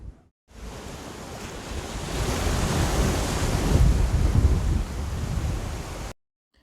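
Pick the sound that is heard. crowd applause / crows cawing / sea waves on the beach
sea waves on the beach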